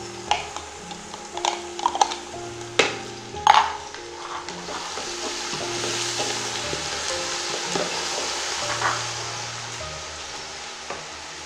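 Ginger, garlic and green chili paste sizzles and fries in a pan while being stirred for kofta biryani, with scraping utensil clicks early on and a steady, close frying hiss throughout.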